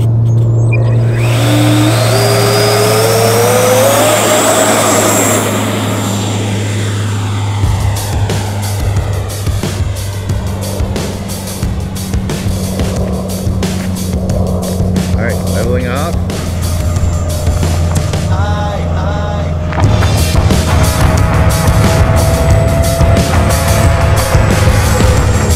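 Two FMS and Freewing Yak-130 RC jets fly in a speed comparison, a steady electric ducted-fan whine rising and shifting in pitch as the jets pass, with people talking throughout.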